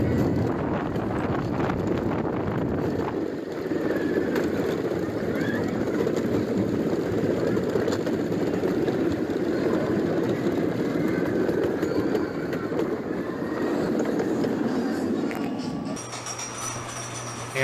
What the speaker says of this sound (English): A training coaster for the little ones.